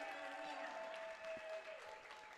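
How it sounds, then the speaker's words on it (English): Faint round of applause for competitor Carly Jenkins in a hall at a martial arts championship, distant scattered clapping under a sustained tonal hum and some murmuring voices. "Carly Jenkins getting a round of applause."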